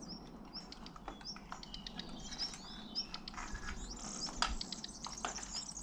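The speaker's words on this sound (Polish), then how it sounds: "Ptaszek jakiś." Faint, high chirps of a small bird scattered over a soft outdoor hum at a large abandoned Soviet-era hospital, distant and irregular.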